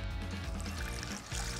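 Water trickles steadily from a Delta Touch2O.xt touchless bathroom faucet, a soft, fairly quiet stream with a brief dip near the end and no voices.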